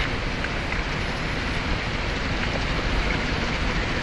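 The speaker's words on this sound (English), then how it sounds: "So the rain's arrived" Heavy rain pours down steadily outdoors as a storm arrives with rising wind, a dense, continuous hiss and patter at even loudness throughout, with no voices.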